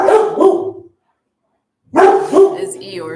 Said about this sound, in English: So that bark was Eeyore.